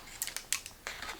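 Scissors snip through paper while trimming a magnet-backed piece for a black swan scrapbook album page, a handful of quick, crisp close cuts in a short run, alone with no talk.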